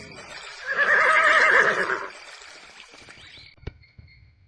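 A horse in a video game gives one loud, drawn-out neigh that fades into a soft snort, followed by a few faint thuds.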